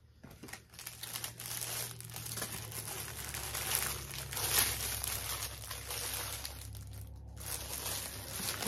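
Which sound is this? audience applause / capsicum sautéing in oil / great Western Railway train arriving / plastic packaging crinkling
plastic packaging crinkling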